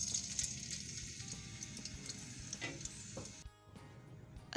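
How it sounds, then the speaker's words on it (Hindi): Ginger garlic paste sautés in half a cup of hot oil for chicken nihari, a faint steady sizzle with occasional stirring scrapes and no voices. "अदरक लहसुन के पेस्ट को मैं 2 से 3 मिनट के लिए सौते कर लूँगी।"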